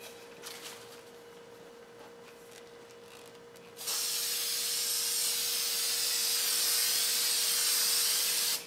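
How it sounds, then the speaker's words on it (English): A can of spray adhesive sprays onto the back of a wooden sign in a long, loud, continuous hiss, starting after a few seconds of quiet room noise and running until the end. "Now I'm going to go ahead and spray the back of it. And I am using spray adhesive."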